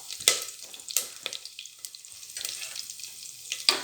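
Curry leaves and green chilies sauté in hot oil for a coconut milk pulao, a crackling sizzle with sharp spattering bursts and brief stirring scrapes, close and alone.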